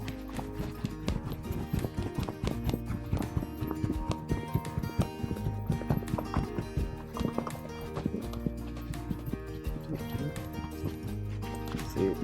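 A horse's hooves clip-clop in a steady, quickening rhythm as it moves toward a canter, close and continuous under low background noise, with a voice speaking now and then.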